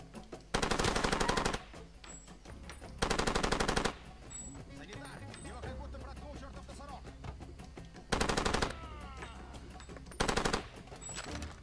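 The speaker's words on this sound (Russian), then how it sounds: "Аванпоста нету, но почему-то кто-то стреляет." Loud bursts of automatic gunfire in the video game Far Cry 2 come in four separate volleys, each lasting a second or so. Quieter game ambience and distant shots fill the gaps between them.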